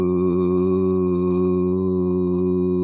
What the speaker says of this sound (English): you say the word VU and you draw it out as long